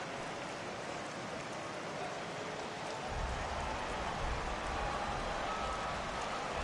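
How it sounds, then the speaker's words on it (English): Steady rain pours down on a ballpark in an MLB baseball video game, a continuous hiss that grows slightly heavier and fuller partway through, with no voices over it. "the rain starting to intensify here. It's coming down a little heavier now."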